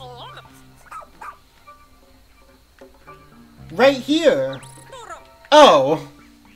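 A dog in a video game gives several yips and barks, a couple of them loud and close, mixed with whimpering sounds and a child-like voice over a faint background hum.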